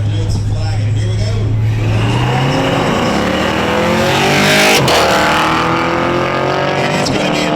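Small-tire street drag racing cars launch down the strip at a flashlight-start event in Muskogee. The engines roar with a rising pitch as they accelerate hard and blast past loudly, while someone talks over the noise.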